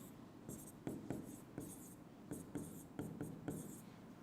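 Chalk or marker strokes on a board during a Class 10 trigonometry lesson, a quiet series of short scratchy bursts in an irregular rhythm, close by and with no voices.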